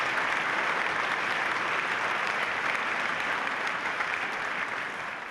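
Sustained applause from an audience at a union movement conference, a dense, steady roar of many hands clapping that holds evenly and begins to fade at the end.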